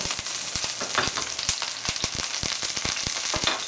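A steak sears in a hot pan with a loud, continuous crackling sizzle full of dense popping spatters, close and steady throughout with no talk.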